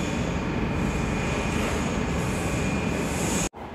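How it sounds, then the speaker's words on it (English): A train idles loudly at a London railway platform with a continuous, dense rumble and hum. The sound cuts out briefly near the end. "Not exactly my train, but the same units as mine."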